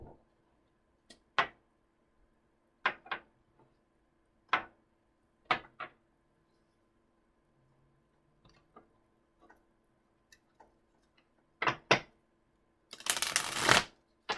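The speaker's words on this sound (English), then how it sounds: "Use a quick shuffle." Short, crisp bursts of tarot cards being shuffled and tapped, scattered across a quiet room, ending in a longer fluttering riffle.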